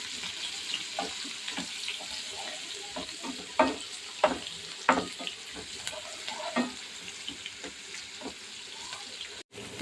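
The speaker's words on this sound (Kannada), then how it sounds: "ನೋಡಿ, ಈ ಥರ ಬೆಳ್ಳುಳ್ಳಿ ಫುಲ್ ರೋಸ್ಟ್ ಆಗಬೇಕು." Garlic and dried red chillies fry in oil, with a soft, steady sizzle and repeated scraping and clinking of a stirring spoon against the pan, close and fairly quiet.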